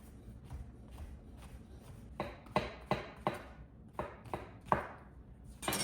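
Knife chopping mushrooms on a cutting board: a dozen or so sharp, irregular chops, clustering in quick runs over soft background noise, close and fairly loud, with no talking.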